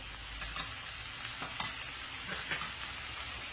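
Tomatoes and spices fry for Yemeni beans with a steady, soft sizzle and light crackle, with occasional stirring clicks in the pan, fairly quiet and close.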